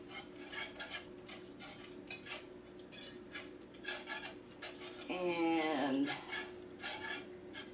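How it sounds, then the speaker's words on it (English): A whisk works milk into gravy in a pan with rapid, rhythmic metallic clinks and scrapes, close and steady, with a brief squeaky swirl midway and a single spoken word. "we're just going to keep adding milk. And stirring with our whisk so that we don't get lumps."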